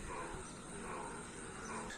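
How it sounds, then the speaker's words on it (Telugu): A dense chorus of frogs croaking after rain in Nandyal at night, heard as a continuous, faint, even wash of calls with no pauses. "కప్పలు మళ్ళీ ఆరుస్తున్నాయి చూడండి కప్పలు"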